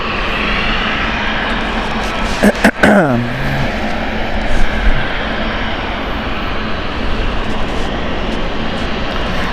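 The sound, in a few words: China Eastern Boeing 777 aircraft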